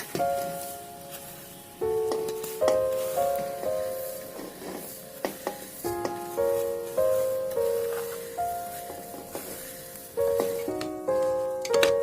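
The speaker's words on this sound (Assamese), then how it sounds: "চাউল এনেকৈ ভাজি আছোঁ" Rice for pulao crackles and sizzles in a hot pan, with occasional stirring scrapes and steady background music playing throughout.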